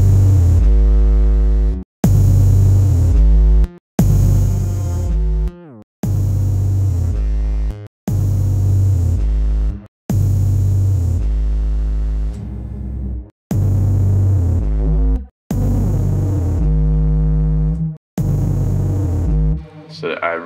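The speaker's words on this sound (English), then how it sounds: "Let's try to put the distortion before the resonator" Loud, buzzy distorted synth tones run into a comb filter resonator, giving a metallic, ringing resonance, playing in repeated sustained bursts, each cut off abruptly before the next.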